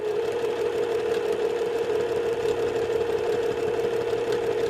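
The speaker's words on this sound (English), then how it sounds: "Turn it, put your presser foot down, and stitch." A sewing machine stitching a quilt block runs with a steady, loud mechanical whir and hum at an even pace, close and uninterrupted for the whole stretch.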